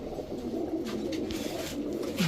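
A pair of red-geared, brown-necked highflyer pigeons coo close by, a low, steady throaty warble that continues through the short moment with no voices.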